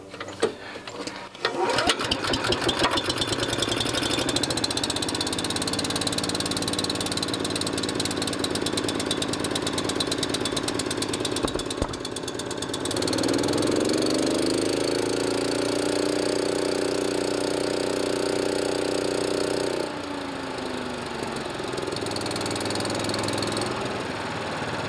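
A gas-powered leaf vacuum found at the curb runs steadily, a loud buzzing small-engine rattle whose pitch climbs and holds as the throttle opens, then drops back to a rougher idle near the end.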